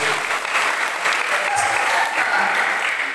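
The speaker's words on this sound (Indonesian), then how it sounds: "Beri tepuk tangan terbaik buat Tuhan Yesus." A church congregation at an evangelistic revival service claps steadily, dense and loud applause with no break across the short stretch.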